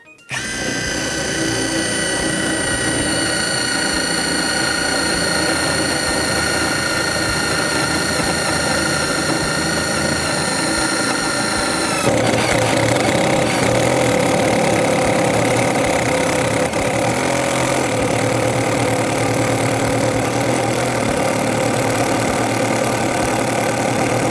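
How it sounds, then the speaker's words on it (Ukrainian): A Dnipro-M DTD-201BC Ultra cordless driver on second speed drills into a steel I-beam, giving a steady, loud whirring and grinding that runs continuously and shifts pitch about halfway through, with no talk. "Давайте ми візьмемо другу швидкість і пробуємо сверлити двутавр."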